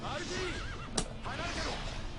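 A horse whinnies in the Jojo's All-Star Battle fighting game, a wavering neigh heard faintly under steady narration, with a brief sharp game hit effect partway through.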